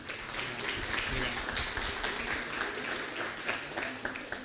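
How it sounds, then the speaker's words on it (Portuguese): An audience applauds to welcome a speaker at an evening gathering, a steady, dense wash of clapping that holds at even loudness throughout, with some low rumble beneath it. "Por favor, uma salva de palmas."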